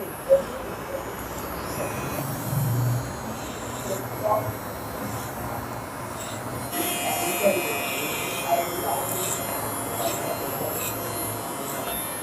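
An electric hair clipper buzzes steadily throughout, close and moderately loud, with a few small bumps in its hum and faint background noise.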